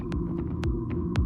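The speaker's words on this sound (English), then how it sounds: "That's the sound of the fully electric Audi Q6 e-tron." A fully electric Audi Q6 e-tron running with a steady low hum and soft rhythmic pulsing, with a few faint higher chirps over the drone.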